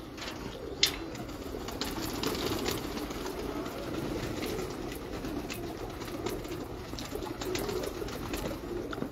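Racing pigeons cooing softly in their loft, low murmuring coos with a few sharper flutters and clicks, fairly faint and continuous, no talk.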